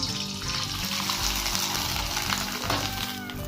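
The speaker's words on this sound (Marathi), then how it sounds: "आता मी तुम्हाला तळून पण दाखवते कढईमध्ये तेल गरम केले आहे" Sun-dried wheat kurdai fry in hot oil in a kadai, producing a loud, continuous, bubbling sizzle close up with no pauses.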